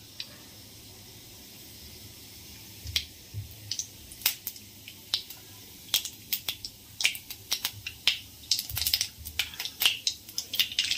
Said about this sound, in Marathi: जिरे आणि मोहरी तडतडायला लागली आहे।